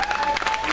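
An audience claps steadily at a folk music performance, a dense, even patter of applause across the short span with no pause.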